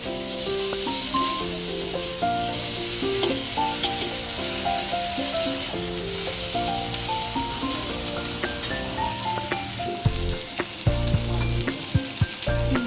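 A ginger, garlic and green chili paste sizzles in hot oil for a soybean dopiaza, a continuous crackling fry with occasional stirring knocks, heard under steady melodic background music.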